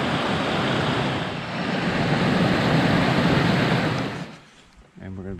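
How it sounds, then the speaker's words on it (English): Rushing water pours down from a power canal beside an old peg mill on a wooded trail, a steady broadband roar that dominates for about four seconds before dropping away abruptly. "we can see where the water is coming down from the power canal"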